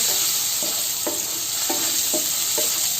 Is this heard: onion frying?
yes